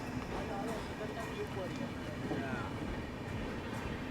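An Amrit Bharat Express sleeper train, running between Khatipura and Darbhanga, rumbles steadily at speed with continuous wheel and carriage noise, and someone talks over it throughout.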